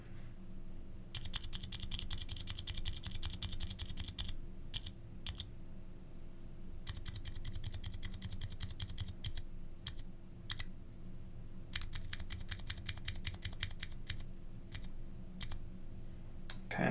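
Bursts of muted, soft keystrokes on a mechanical keyboard fitted with Zeal Zilent silent tactile switches, rapid typing runs separated by short pauses, close and steady with no talking.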